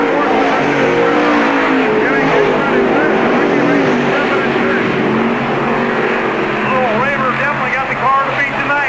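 Modified stock cars racing at Park Jefferson Speedway in 1997, a loud continuous roar of several engines sweeping past, with an announcer calling the race over the noise.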